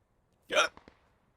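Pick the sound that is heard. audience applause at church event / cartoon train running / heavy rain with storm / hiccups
hiccups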